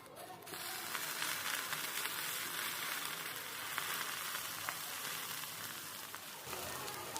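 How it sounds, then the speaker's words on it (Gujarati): A loud, steady crackling sizzle starts abruptly and fizzes on without pause as hot oil is poured onto chutney close by. "આ ગરમા ગરમ તેલ ચટણી પર આ રીતે નાખી દેવાનું છે"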